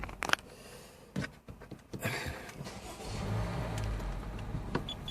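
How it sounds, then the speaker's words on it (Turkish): A Honda City engine idling as the car moves slowly back and forth to test a newly fitted rear parking sensor, with a low rumble and some clunks, heard from nearby. "Aracı bir ileri geri yürüteceğim az bir şey."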